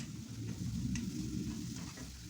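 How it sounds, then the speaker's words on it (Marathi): Beetroot being sautéed and stirred with turmeric and garam masala in a pan, giving a steady low scraping and soft sizzle close by with no voices. "हे चांगलं असं परतवून घेऊया"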